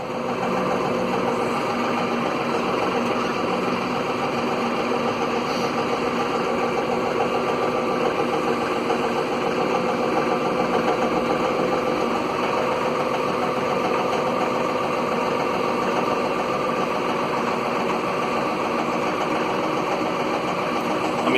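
A tractor engine runs steadily nearby, a constant droning rumble with a faint vibrating rattle and no voices.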